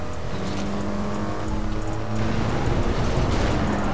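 Car engine straining under acceleration during a GTA roleplay race, a loud steady drone with rising harmonic tones and a rougher, louder surge partway through, no voices over it.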